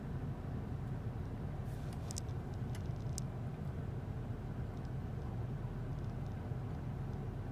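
A car engine idles in drive with a low, steady, fairly quiet hum and rumble, constant throughout with a few faint ticks on top.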